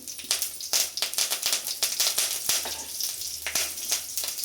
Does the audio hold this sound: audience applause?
no